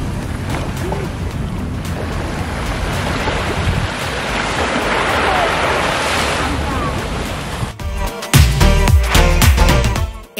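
Ocean waves roll and wash steadily at sunset off Punta del Este facing Isla Gorriti, a loud continuous surf with wind buffeting the microphone, then a closer, heavier rush of water near the end.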